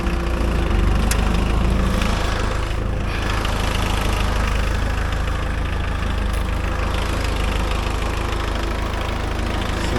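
A homemade mini tractor's engine idles with no throttle, a steady loud chugging drone that holds even throughout, close by and with no talking.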